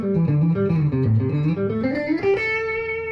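Electric guitar plays a fast riff at about 80% speed, a steady run of loud, close, clipped notes with no talking.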